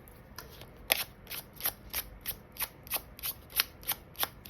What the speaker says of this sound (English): So I am going to shuffle 2 or 3 of these out for you